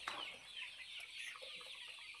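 Chickens in a poultry shed clucking, several birds with overlapping quiet calls heard at moderate distance.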